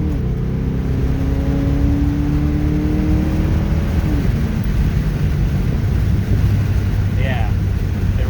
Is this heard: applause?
no